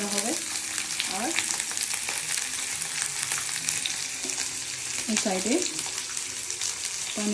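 Paneer pieces sizzle in a hot pan while being tossed, a steady close frying hiss with brief bursts of a person talking over it.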